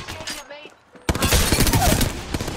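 Dense, rapid gunfire from an Apex Legends firefight erupts suddenly and continues loud and close, with overlapping bursts; a voice talks briefly just before the shooting begins.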